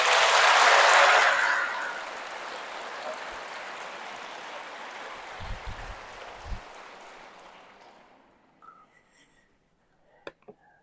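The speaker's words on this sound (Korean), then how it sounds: "감사의 박수 같이 올려드렸으면 좋겠습니다." Congregation applause in a Catholic church during a Cenacolo retreat, loud and dense at first, then thinning and fading away over several seconds, with a few isolated claps near the end.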